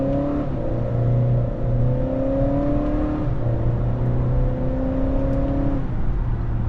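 A 2025 Acura TLX in manual shift mode climbs steadily through its gears, the engine note rising in smooth sweeps with brief dips at each shift, heard from inside the cabin as a loud, continuous drone.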